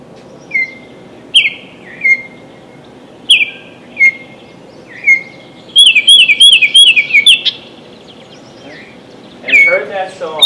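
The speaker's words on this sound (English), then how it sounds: "it heard that song, and it identified it as the Baltimore Oriole" Baltimore Oriole song played back from a phone for a bird sound ID app at a park event near feeders: a series of clear whistled phrases repeating every second or so, with a quick run of notes midway.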